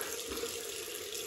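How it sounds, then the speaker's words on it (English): Cold water runs steadily from a tap into a sink for a post-shave rinse, a continuous close broadband splashing hiss with no talking. "Cold water rinse."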